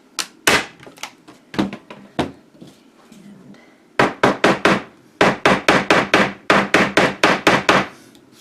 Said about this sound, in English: I staple them in, and I hammer them in to make them good and flat with the surface.